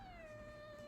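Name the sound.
cat meowing into the microphone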